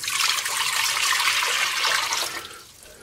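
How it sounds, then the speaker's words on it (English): Water pouring steadily into a pot on a stove burner for brine, six cups' worth, a continuous bright splashing stream close by that tapers off near the end. "I'm putting in 6 cups of water"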